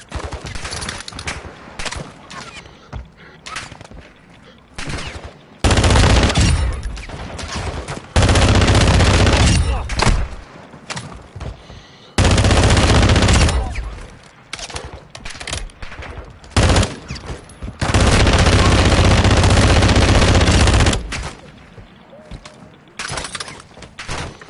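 Bursts of mid-caliber rifle fire in the DMZ mode of a Call of Duty-style shooter, several loud sustained automatic volleys separated by short gaps, with faint voices underneath between the bursts.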